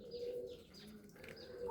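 A sick pigeon that has gone several days without eating coos softly in a low, faint, wavering call, heard alone at close range.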